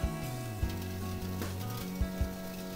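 Strips of Galician beef rib sizzle steadily on a grill, a close, continuous crackling hiss with a few soft knocks and clicks.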